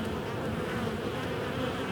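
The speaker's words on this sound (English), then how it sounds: "Look at how beautiful them bees are." Honey bees at the entrance of a hive in a UK apiary make a dense, steady buzz that is close and continuous, with no voices over it.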